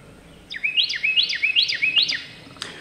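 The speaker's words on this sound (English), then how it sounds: "there's this little bird perched on top of a dead tree" A small bird perched on top of a dead tree about 35 feet up repeats a clear, rising whistled call five times in a steady rhythm, crisp and alone against quiet background.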